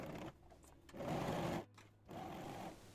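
Sewing machine stitching the crotch seam of a cotton-style palazzo pant, running in two bursts of steady whirring with a short pause between them, close and alone without talk.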